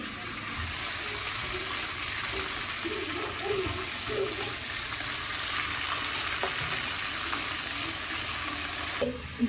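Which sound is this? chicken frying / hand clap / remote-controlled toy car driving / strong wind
chicken frying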